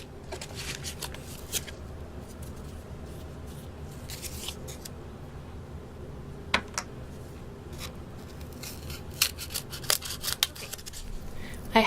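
Scissors cut a figure out of paper, making faint, intermittent snips and soft paper rustles in a quiet room, with a few sharper clicks near the end.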